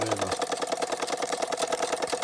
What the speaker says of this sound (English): it's coupled up to a little Carette Blacksmith man who's going to hammer away there